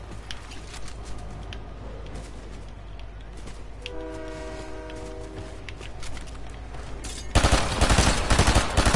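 A train rolls past in a video game, a steady rumbling roar with a sustained horn-like tonal blast in the middle, then a sudden loud burst of broadband noise near the end.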